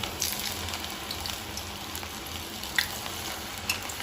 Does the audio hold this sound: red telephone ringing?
no